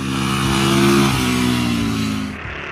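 A 2016 SWM 440 Silver Vase motorcycle's mid-toned single engine pulls steadily under load while riding, its pitch shifting slightly between throttle changes before easing off near the end.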